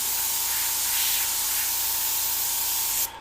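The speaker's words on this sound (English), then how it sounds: "I'm only going to spray a lot of it in the dark areas." Purple spray paint hisses steadily from a can in one continuous close, loud burst lasting about three seconds, then cuts off abruptly.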